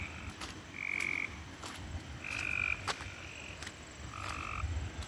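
Several frogs croak at night near a flooded Kentucky creek, tonal calls repeating in short bursts against a steady hiss of insects and water, fairly distant.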